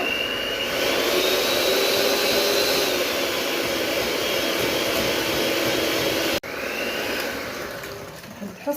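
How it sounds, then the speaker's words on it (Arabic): Electric mixer whisking sugar and oil at maximum speed, a loud steady whirring drone that holds for about six seconds, cuts out briefly, then resumes and winds down. "وراح نخفق بأقصى سرعة حتى يذوب معايا السكر تماما."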